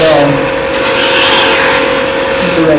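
A wood lathe spins with a steady high whine while a tool cuts a tenon on a wooden scoop, giving a continuous scraping hiss close up and loud throughout.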